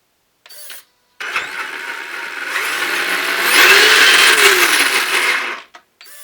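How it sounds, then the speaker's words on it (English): A Traxxas Summit RC truck's electric motor whines up as it shifts into low gear. The whirring builds and rises in pitch after a brief start-stop, holds loud and close for a few seconds, then cuts off. "So I'll go ahead and shift into low gear."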